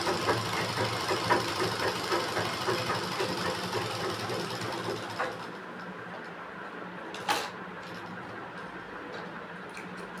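Sewing machine stitching a sleeve hem on a readymade top, a rapid, steady mechanical whir that runs for several seconds up close before stopping, leaving quieter handling sounds and a brief knock.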